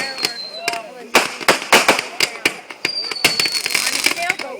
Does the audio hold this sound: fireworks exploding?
yes